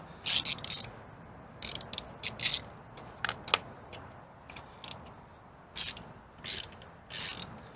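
Hand ratchet loosening bolts on a 1971 Honda CB350 motorcycle, short clicking runs of the pawl in quick bursts separated by pauses, close and fairly quiet.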